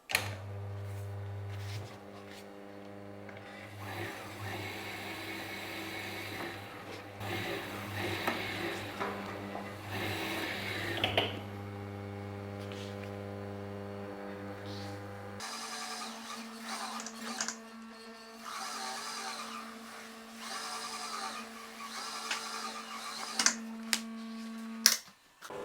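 A leather skiving machine thins the edges of leather parts for an antique chair's seat cover, running as a steady motor hum with faint mechanical ticking. Its tone shifts partway through, and a few light clicks follow, with no speech.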